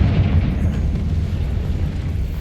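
A Confringo spell explodes in Hogwarts Legacy as a loud, low rumbling blast that sustains and slowly fades across a couple of seconds.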